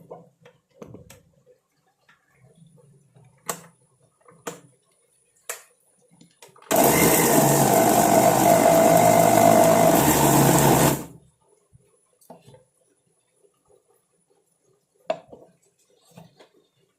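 A kitchen mixer grinder whirs loudly for about four seconds as it blends homemade hair dye ingredients, starting and stopping abruptly. Quiet clicks and handling knocks come before and after.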